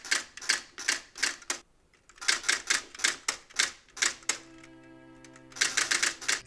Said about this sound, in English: type out my new office hours for next week on an index card using one of the typewriters